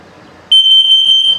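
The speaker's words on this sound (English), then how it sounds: "It'll first test for LP, then carbon monoxide, then it'll display 4 beeps for the low battery alarm." Loud self-test alarm from an RV's combined LP and carbon monoxide detector in a 2021 CrossRoads Zinger 331BH, a piercing high beep pulsing rapidly in short bursts, close by.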